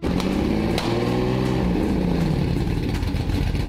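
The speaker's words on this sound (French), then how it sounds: "le moteur semblait ne pas fonctionner correctement" A Lamborghini Murcielago engine runs unevenly after its fuel injector wiring was repaired, a steady close rumble with wavering tone and a couple of sharp transients, no talk over it.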